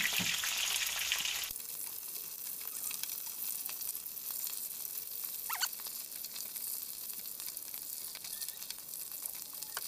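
Tikling, a small rail bird, frying in hot oil as a steady crackling sizzle with scattered pops, continuous and close throughout, no talking.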